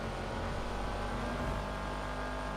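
A Karin Sultan RS Classic engine drones steadily while cruising on a highway in GTA Online, a constant, even hum with no clear revving changes.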